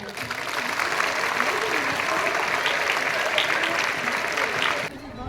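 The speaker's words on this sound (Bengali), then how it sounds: "জোরে একটা হাততালি দিয়ে দাও" School students at a sports competition burst into loud, sustained applause that keeps up for about five seconds, then stops abruptly.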